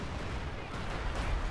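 Artillery barrage in Company of Heroes 2: a dense, continuous low rumble of distant shelling with muffled booms throughout.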